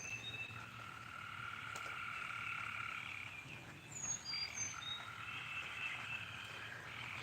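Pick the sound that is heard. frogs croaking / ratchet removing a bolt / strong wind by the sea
frogs croaking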